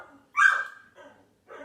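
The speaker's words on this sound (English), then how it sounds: "I'm so sorry if you can hear my dogs barking right now." Pet dogs barking indoors during a home recording: one loud, sharp bark followed by two fainter, shorter yips with short pauses between them, with no talking over them.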